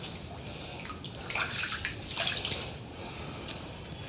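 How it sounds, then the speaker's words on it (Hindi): Water from the Ganga flows and drips inside a low cave at Sukhanand temple, a close, steady rushing splash that swells briefly in the middle, with no talking. "ये गंगा का पानी है।"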